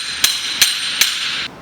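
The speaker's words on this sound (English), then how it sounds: "Make sure you always use a hammer and just pound it off of your inside race" Three sharp hammer blows, evenly spaced, ring out over a steady high-pitched hiss while bearings are pounded off an inside race.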